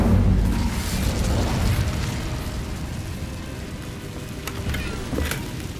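The Incendio fire spell being cast in the video game Hogwarts Legacy: a loud, rumbling fiery burst and whoosh rolls on for several seconds and slowly tapers off, with a few sharper crackles near the end.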